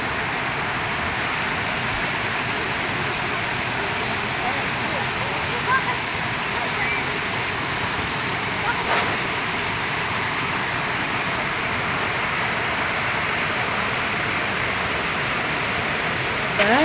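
Mountain-fed waterfall in a forest park in Bosnia, a steady, full broadband roar that holds evenly throughout, with a few faint knocks on top.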